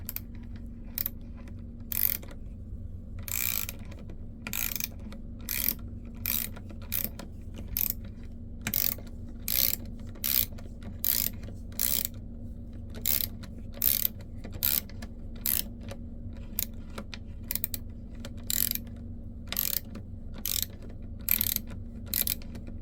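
A VIM dual drive flex-head ratcheting wrench clicks steadily as it is worked back and forth to loosen a fastener, bursts of sharp ratchet ticks repeating close and alone over a low steady hum.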